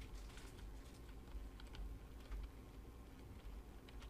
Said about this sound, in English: I'm sorry, I'm so sorry, guys, if you guys hear my keyboard